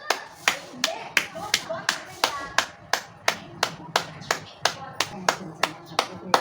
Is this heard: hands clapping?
yes